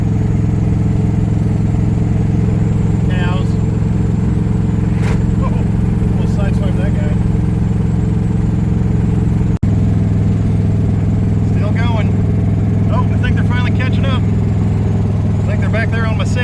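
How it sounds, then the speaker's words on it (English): A rough, steady engine idle from an old Chevrolet K20 truck with an exhaust leak, a rumbling, leaky drone filling the whole stretch, loud and close, while someone talks intermittently over it. "Y'all probably can't even hear me over that exhaust leak."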